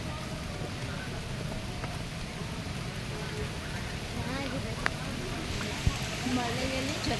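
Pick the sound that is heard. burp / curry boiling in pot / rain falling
rain falling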